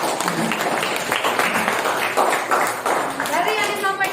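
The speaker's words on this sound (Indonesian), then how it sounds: "kita beri tepuk tangan dulu untuk kelompok 1" A school class applauds group 1 after a presentation, a moderate burst of clapping with voices talking over it.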